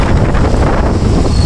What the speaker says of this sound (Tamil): காற்று சத்தம் தான் அதிகமாக கேட்கும்